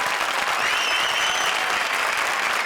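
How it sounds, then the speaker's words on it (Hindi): A full studio audience claps steadily and loudly at a horror-themed comedy show, the dense applause unbroken from start to finish. "हमारी चारों भूतिया जोड़ीज के लिए जोरदार तालियां"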